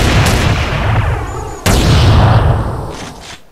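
A chrome Hello Kitty–styled gun fires in GTA San Andreas: two sharp, loud shots about a second and a half apart, each with a booming burst and a long reverberant tail.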